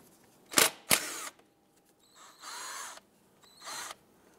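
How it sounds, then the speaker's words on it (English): A 10 mm socket on a ratchet or power tool removes the bolt that holds a brake flex hose to the strut of a 2012-2017 Toyota Camry. Two sharp close bursts come first, then softer whirring runs with brief gaps. "Using a 10 millimeter socket, remove the bolt here holding our brake flex hose to the strut."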